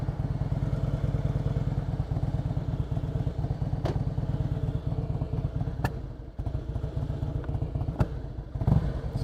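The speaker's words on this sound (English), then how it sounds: "I'm going to get the bike going and talk." A motorcycle engine runs steadily at close range during a Sunday ride on gravel, its throbbing mid-pitched note joined by scattered clatter and sharp ticks from loose stones, with a brief dip in revs midway.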